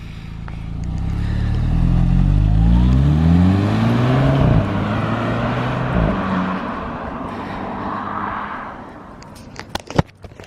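A 200,000-mile VW Golf GTI revs and drives past on a remote road, engine note rising loud as it nears and then fading away, with a few sharp clicks near the end.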